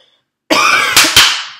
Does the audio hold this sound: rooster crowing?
no